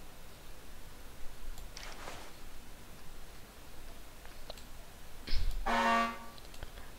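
A car horn sounds in the horse-riding video game Star Stable, one short toot early and a louder, longer honk near the end, set against quiet background rustle.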